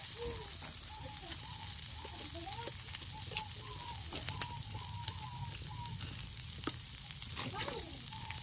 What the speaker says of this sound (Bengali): তেল দিয়ে আমি এটাকে ভালো করে নাড়াচাড়া করে কষে নিচ্ছি আলুগুলোকে